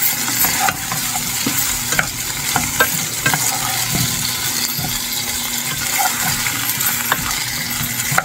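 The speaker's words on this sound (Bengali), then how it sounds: "মশলা অনেক সুন্দর করে ভাজা দিয়েছি" Spices and finely chopped tomatoes frying in a pan, a continuous close sizzle with repeated scrapes and clinks of a spoon stirring against the metal, fairly loud, no talking.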